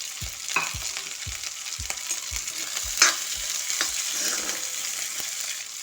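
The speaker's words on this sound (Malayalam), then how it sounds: "ഇത് ചെറുതായിട്ടൊന്ന് ഫ്രൈ ചെയ്യുമ്പോഴത്തേനും നമുക്ക് ഉള്ളിയും പച്ചമുളകും കറിവേപ്പിലയും കൂടെ ചേർത്ത് കൊടുക്കാം" Ginger, onion, green chili and curry leaves fry in a pan, giving a steady moderate sizzle with a regular series of soft low thumps from stirring and one sharper clack near the middle.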